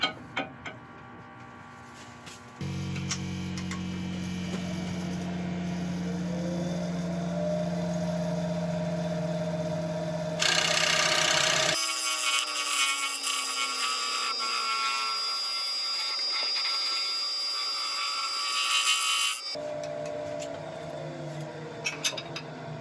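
Steady grinding, scraping hum of a scraper smoothing a spalted sycamore bowl on a lathe, continuous and fairly loud, with a brighter, harsher stretch in the middle.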